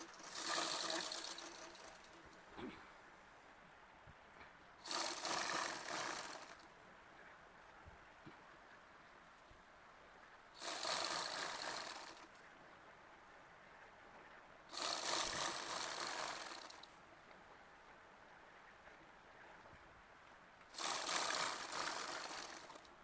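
A sewing machine stitches a langa skirt in five separate runs of fast, steady whirring, each lasting a second or two, with near-silent pauses between them. No one speaks.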